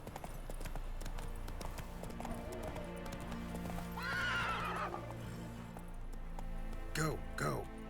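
In the video game Witcher 3, a horse's hooves clip-clop in a steady galloping rhythm, with two loud whinnies breaking through, while a person talks quietly over the play.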